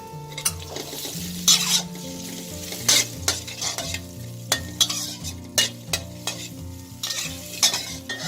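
Coriander root and ginger stir-fried in a hot pan, with a steady sizzle under repeated scraping and clinking of a utensil against the pan, close and fairly loud.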